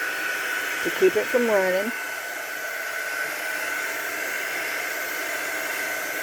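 A hair dryer blows steadily and fairly close on UV resin mixed with alcohol ink, a continuous whooshing hum from start to finish, with someone briefly talking over it near the start.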